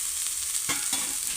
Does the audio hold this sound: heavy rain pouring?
no